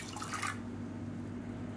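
Water poured into a cooking pot for horse gram kanji, a short splashing pour that lasts about half a second and then stops, leaving a quiet room hum.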